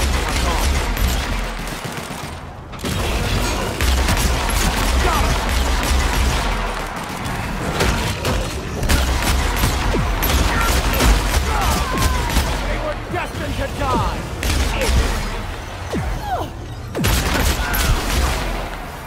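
Guns firing in The Outer Worlds, continuous loud rattling gunfire and booms for nearly twenty seconds with brief gaps, mixed with someone talking throughout.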